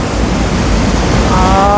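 Waves roll and surge on open water at a famous Thai tourist spot, a loud, continuous rushing wash close to the microphone, with some wind noise mixed in.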